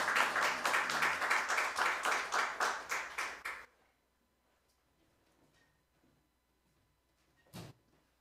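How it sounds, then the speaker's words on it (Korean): A church congregation claps warmly in welcome, a dense, steady round of applause close by that fades out after about four seconds and leaves near silence with a faint thump. "우리 박수로 한번 환영하도록 하겠습니다"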